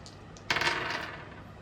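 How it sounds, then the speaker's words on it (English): Four dice are rolled for a board game, a short clattering burst of dice tumbling and settling on a hard surface, close and fairly loud, with no talking. "Let's roll 4 dice and see how we go."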